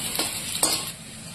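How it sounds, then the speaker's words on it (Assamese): Onions and chillies fry in a pan with a soft steady sizzle, broken by two quick scraping strokes of a spatula stirring, close and alone. "পিয়াজ আৰু জলকীয়াখিনি অকণমান ভাজি ল'ম ৰঙচুৱাকৈ"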